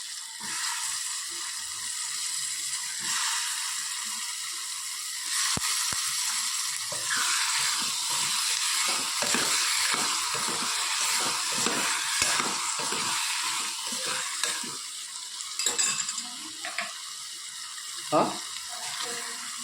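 Potatoes fry and sizzle steadily in a pan as they are stirred, with scraping strokes from a spoon across the pan surface and a few clinks toward the end.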